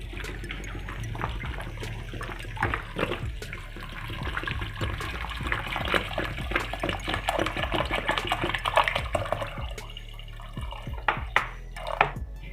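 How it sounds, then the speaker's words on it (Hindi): Water is poured into a pressure cooker holding minced beef, chana dal, tomatoes, onion, garlic and spices, making a steady splashing, gurgling pour with irregular drips and sloshes that trail off near the end. "अब इसमें हम पानी डालेंगे।"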